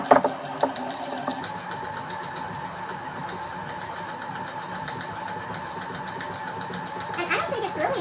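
A Mosbros electric yarn winder runs at full speed winding a pound of yarn, a steady close mechanical whirring hum, with brief voice sounds at the start and end.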